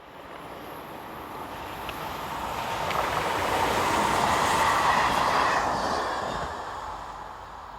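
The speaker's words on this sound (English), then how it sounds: "two-car class Z9500 unit number 9513, seen here heading east with local train the 1736 from Chambéry to Modane" A two-car class Z9500 electric local train, running from Chambéry to Modane, passes at a distance, its rolling rumble swelling steadily to a broad peak and then fading away, with no voices present.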